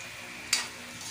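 Squid adobo being stirred as it fries in a pan: a steady, faint sizzle with one brief scraping stir partway through and no talking.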